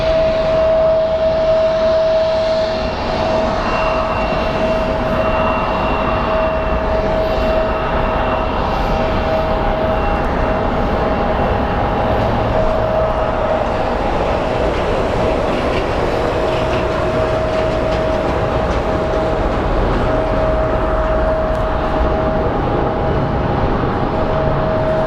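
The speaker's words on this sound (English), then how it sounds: "So Jojo the Grizzly Bear livery is up next. getting ready for its flight to Denver." An airliner in Jojo the Grizzly Bear livery prepares for a flight to Denver at Phoenix Sky Harbor International Airport, its steady loud engine roar filling the whole stretch with a constant hum and a high whine running through it.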